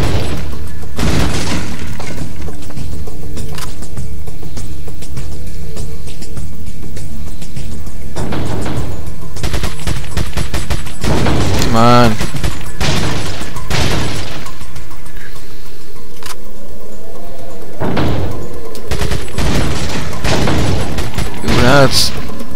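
Rapid bursts of gunfire in Resident Evil 4, loud and close, with sharp cracks and impacts coming in several volleys separated by short gaps.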